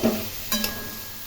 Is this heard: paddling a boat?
no